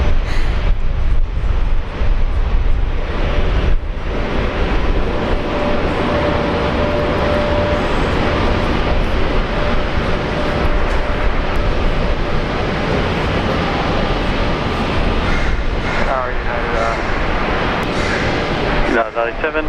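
A United airliner at Brisbane Airport roars steadily through a full takeoff, a broad loud engine rumble that holds without letup, while radio chatter from air traffic control plays over it.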